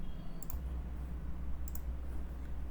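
Two quick computer mouse clicks, close and light, ring out over a steady low hum from a desk setup.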